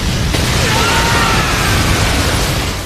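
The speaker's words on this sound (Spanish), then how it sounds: "todos consiguen sobrevivir gracias al chakra de Naruto que tenían, que los protegió de toda la explosión" An explosion from the Tenpenchi technique in the Naruto anime: a loud, sustained roaring blast of dense rumbling noise that holds steady for about three seconds before easing slightly.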